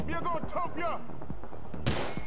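Gunfire in the video game GTA IV: a single sharp, loud shot bursts out near the end, after a stretch of talking voices.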